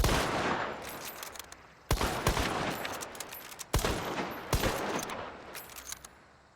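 Obrez pistol fired in Hunt: Showdown, four sharp loud shots spaced roughly two seconds apart, each with a long ringing reverberant tail and scattered smaller cracks in between.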